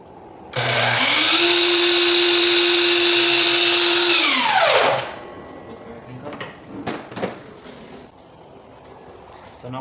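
A miter saw cuts crown molding at 22.5 degrees, its motor spinning up with a loud, close, high whine for about four seconds, then winding down, followed by light clatter and handling of wood.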